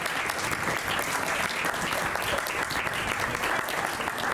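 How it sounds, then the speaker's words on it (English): An audience at a Cleveland Owns summer co-op barbecue community event claps in sustained, dense applause for several seconds, steady and fairly close, with a faint murmur of voices underneath. "So can we give a big round of applause to everyone"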